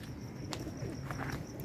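Pigeons coo softly from city rooftops at dusk, low steady cooing over a constant background hum, with a few brief sharper chirps.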